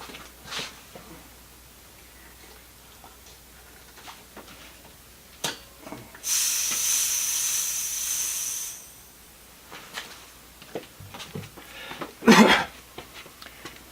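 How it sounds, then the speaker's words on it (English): A garage air compressor's pressure is turned down, giving a steady broad hiss of released air lasting a couple of seconds, set among scattered clicks and knocks during a garage door window replacement job. "I think I'll cut the air pressure down a little bit on the compressor"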